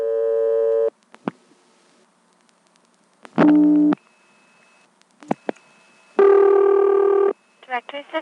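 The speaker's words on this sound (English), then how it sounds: "Let's dial 102" Dialing tones and line signals on a 1976 step-by-step telephone exchange in Colonial Beach, Virginia, calling directory assistance at 102: sustained harmonic tone bursts, short clicks and pulses, then another long tone, with a voice speaking briefly.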